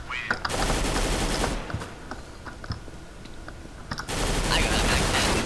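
Bursts of video game gunfire in Counter-Strike: Global Offensive Gun Game mode, rapid automatic volleys at the start and end with scattered single shots and clicks between, heard closely over a low background.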